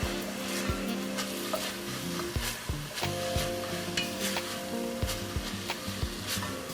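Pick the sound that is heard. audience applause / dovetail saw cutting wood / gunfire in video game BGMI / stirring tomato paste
stirring tomato paste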